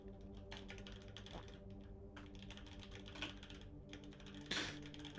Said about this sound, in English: Freaking loud keyboard.